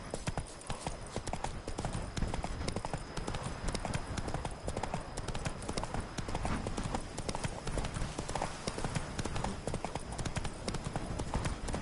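Roach, Geralt's horse in The Witcher 3: Blood and Wine, clip-clops steadily at a quick trot, hoofbeats continuous and close throughout amid game ambience, with faint voices now and then.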